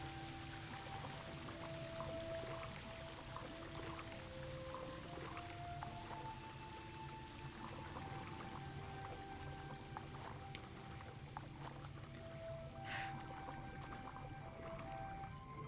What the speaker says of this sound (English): let me get further away from the waterfall because the noise